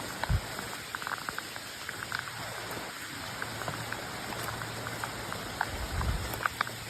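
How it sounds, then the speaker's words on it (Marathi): Steady heavy rain pours down at night in hills near Kelva, a dense, continuous hiss, with scattered drops pattering nearby and a faint low hum underneath; no one speaks. "पाऊस जोरात आला आहे"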